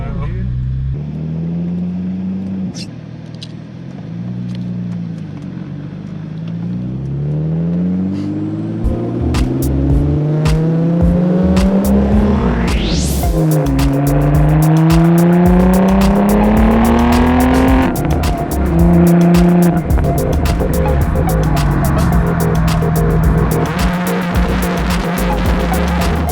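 Tuned Audi S4 running on E85 revving and accelerating hard, engine pitch sweeping up through gears with loud, close exhaust roar, while people talk excitedly over it.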